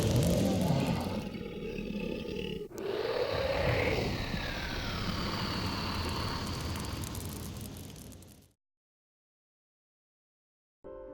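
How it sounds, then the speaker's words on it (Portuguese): Deep, loud animal roar standing in for a dragon, a long rumbling growl lasting several seconds before cutting to silence, with no talk over it. "Foi quando ouvi um rugido forte de um animal."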